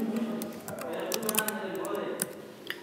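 Fingers tap out a name on a computer keyboard, light rapid clicks in short bursts, close up beneath someone speaking.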